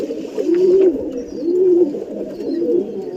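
Young home-bred pigeons coo close by in three drawn-out, throaty rounds separated by short pauses, with quiet background ambience.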